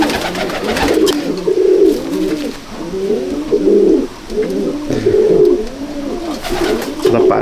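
Competition racing pigeons in a village loft coo loudly and steadily, overlapping rounded throaty calls repeating in a rolling rhythm close by, with no voices.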